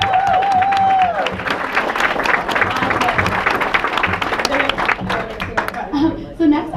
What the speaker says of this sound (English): So can we get a round of applause for them, please?